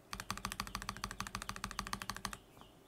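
Rapid, even typing on a mechanical keyboard with stock, unlubed Joininkeys Prince or Zealios v2 switches, about twenty crisp clacks in quick succession, close and clear, then stopping.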